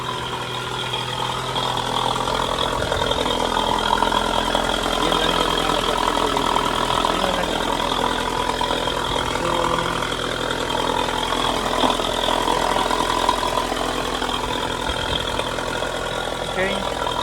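A truck engine idling steadily after a spark plug replacement, a constant low mechanical hum with vibration running throughout, while someone talks nearby over it.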